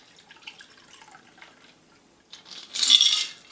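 A shaken Vesper Martini is poured from a cocktail shaker, a quiet trickle of liquid building into a brighter splash near the end, preceded by faint clinks and small handling sounds.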